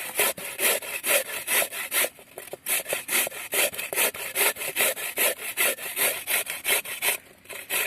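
Carrots rubbed against a hand grater, making rapid rhythmic rasping strokes in a steady back-and-forth pattern with brief pauses, close and continuous.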